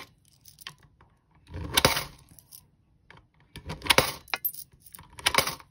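Loose change is dropped into a coin jar in three separate bursts, each a bright jangling clatter of metal on glass, close and loud, with quiet pauses between.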